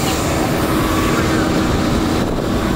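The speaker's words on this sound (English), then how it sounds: "Show the airplane, Joe." Steady, loud airplane engine roar at an airport, a continuous broadband drone with no breaks, heard close with no talking over it.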